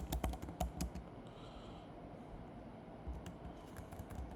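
Quiet computer keyboard typing while a line of text is entered in a document, with a cluster of quick clicks at the start and another short burst later, separated by a quiet pause.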